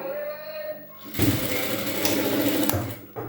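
A sewing machine stitching cloth during blouse tailoring, running in a steady fast whirring burst for about two seconds after a quieter lead-in, close up, then stopping.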